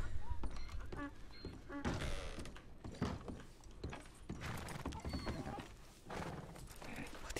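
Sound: donkey hooves clip-clopping in video game Red Dead Redemption 2

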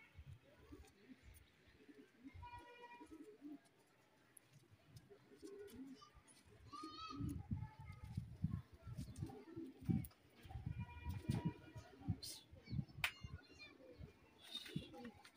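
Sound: pigeons cooing

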